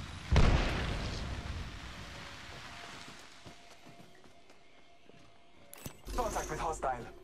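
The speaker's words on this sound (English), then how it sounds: "Grenade." A grenade blast in the battle royale game Apex Legends, one loud boom near the start with a long rumbling decay, then a burst of further noise toward the end.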